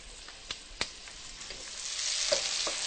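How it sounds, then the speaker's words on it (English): Vegetables sautéing in a pan over medium-high heat, a steady close sizzle with a few sharp clicks and scrapes of stirring, growing slightly louder toward the end. "I'm going to let these cook for about 6 to 7 minutes until nicely translucent"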